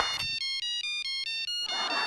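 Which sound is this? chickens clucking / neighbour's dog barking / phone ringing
phone ringing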